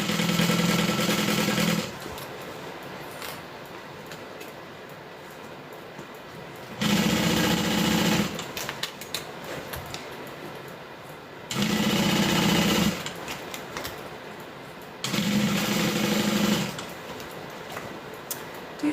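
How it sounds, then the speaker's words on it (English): A sewing machine stitching fabric runs in four loud, steady whirring bursts, each lasting a second or two, separated by quieter pauses with faint handling noise and no talk. "And then just start sewing."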